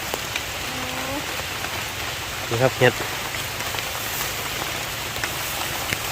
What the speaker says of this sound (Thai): โอ้ฝนก็ตกพี่น้องเลย